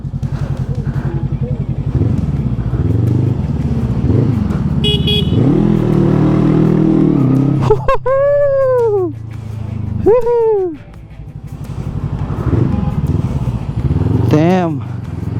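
A motorcycle on its first ride revs loudly and close, its engine rising and falling through several sharp throttle sweeps, with brief horn-like toots and someone talking over the engine noise.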